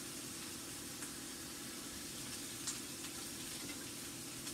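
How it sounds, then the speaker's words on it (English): Bacon sizzling and crackling in a hot pan as the strips are flipped, a steady close hiss throughout with small pops and scrapes and no talking. "now we flip the bacon"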